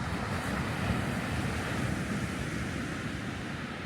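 Ocean waves wash on the shore in a steady, broad roar with wind buffeting the microphone, continuous and fairly loud with no voices.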